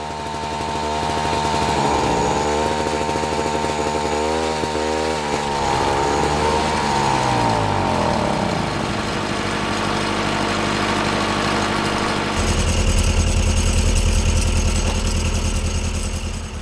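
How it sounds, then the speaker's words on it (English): A small single-cylinder two-stroke petrol donkey engine on a 1974 Belarus DT-75M crawler tractor sputters and catches, its rasping drone rising and falling in pitch before settling into a steady, louder running rumble. "It started using a single-cylinder two-stroke petrol donkey engine"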